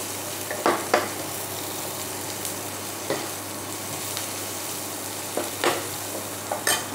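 Asafoetida frying in oil in a pan for a Bengali bottle gourd moong dal, a steady close sizzle with a few sharp spoon scrapes and taps scattered through.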